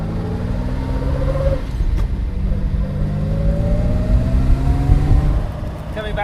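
A Series 3 Jaguar E-Type's 5.3 litre V12 engine revs with rising pitch through gear changes, a loud, close, continuous engine drone with no talk.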